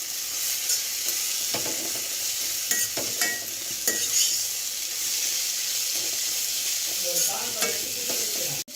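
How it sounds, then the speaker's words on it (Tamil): Onions and dried fish fry in oil with a steady, loud sizzle, as a spoon stirs and scrapes the pan in repeated clinks and taps. "இதை இப்போ நல்லா கிறிஸ்பியாக வர வரைக்கும் வணக்கணும்."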